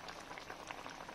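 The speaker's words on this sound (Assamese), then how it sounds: "এয়া মাছ দি উতলিবৰ কাৰণে দিছোঁ।" Butter fish simmering in a mustard and poppy seed gravy with whole green chillies, a soft, steady bubbling burble, faint and close, with no talk.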